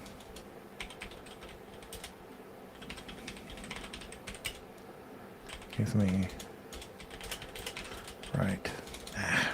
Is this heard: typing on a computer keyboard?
yes